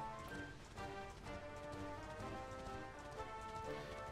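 A horse ridden at a steady pace in the video game Dragon Quest XI, its hooves clip-clopping in an even rhythm under a continuous musical backdrop, close and fairly loud with no talking.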